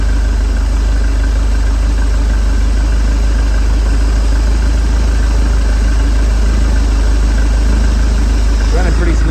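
A 1988 StingRay Supersport boat engine runs steadily after a fuel mixture adjustment, a continuous loud idle with a deep low rumble and no clear breaks for the whole stretch.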